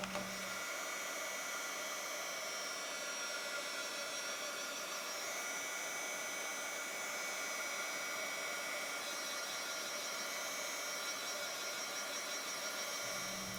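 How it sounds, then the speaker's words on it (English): Heat tool melting embossing powder for cardmaking, a steady close blowing whoosh and fan whine running continuously for several seconds, with no talking. "now that I have my heat tool, I will make sure it's nice and hot, and then I'll melt my powder"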